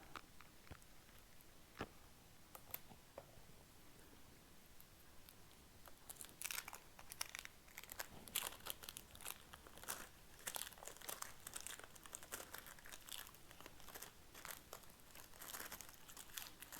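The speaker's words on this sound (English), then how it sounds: "let's start by taking" Plastic wrap is peeled off fishing rods, giving faint crinkling and rustling. It is sparse at first and then turns into a busier, steady run of close crackles.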